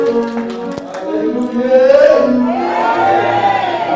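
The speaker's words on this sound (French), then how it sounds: "On applaudit encore pour le Seigneur." A wedding congregation in church claps and cheers at a ceremony, scattered sharp claps under loud shouts, singing-like voices and rising cheers that fill the room.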